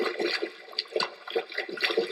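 Water splashing as a radio comedy sound effect, a series of wet sloshes and splashes in irregular bursts, close and moderately loud with no talking over it.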